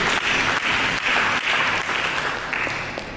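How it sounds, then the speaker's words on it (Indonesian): A church congregation bursts into sustained applause during a Sunday service, dense clapping holding steady and loud for a few seconds before beginning to thin out. "Berikan tepuk tangan dulu bagi Yesus."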